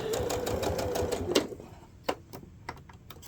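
A sewing machine stitching a quilt block, with a fast run of rapid mechanical needle clatter that stops, followed by a few isolated clicks and thumps, close and clear with no talk.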